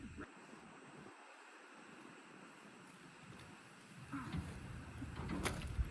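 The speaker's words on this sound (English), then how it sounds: "cold and windy out here." Steady wind blows across an outdoor space, buffeting the microphone with low rumbles that grow stronger toward the end.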